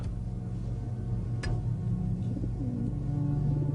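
Soft, low cooing from pigeons under a steady background hum, with a brief sharp click partway through.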